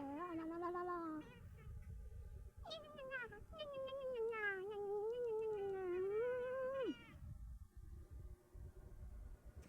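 A gray cat gives several long, drawn-out meows with rising and falling pitch, loud and close, with short pauses between calls and no talking.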